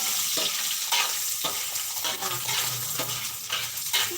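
Salted fish crackles and sizzles in hot oil in a home kitchen, with steady spitting and occasional stirring clatter; a voice says a single word briefly.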